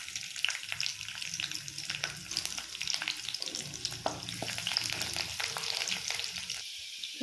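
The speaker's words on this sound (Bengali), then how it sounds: "রসুনটা হালকা ভাজা হলেই" Garlic fries in a little oil with cumin in a pan for Rajasthan-style baingan bharta. It gives a busy, continuous crackle and sizzle with sharp pops throughout, fairly close and with no talking.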